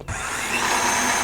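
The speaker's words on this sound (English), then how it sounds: "this is the cultivator attachment" Garden power head with a cultivator attachment running at low speed: a close, steady motorized whine and buzzing drone that starts abruptly and holds evenly throughout.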